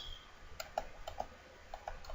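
Computer keyboard keys click a handful of times in quick, irregular taps, close and fairly quiet, with no voices.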